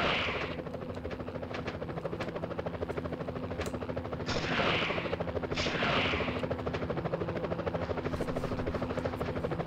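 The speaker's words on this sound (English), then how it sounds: "Whoa, police choppers." Police helicopters in a Spider-Man video game, a loud, continuous rapid rotor chop with rushing whooshes passing through, alone without talk.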